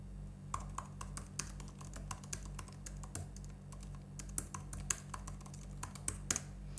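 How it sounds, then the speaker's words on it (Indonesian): Rapid, light keystrokes tap away steadily on a tablet keyboard, close and crisp, over a low constant hum, with no voices. "begini suaranya kalau misalnya digunakan untuk mengetik."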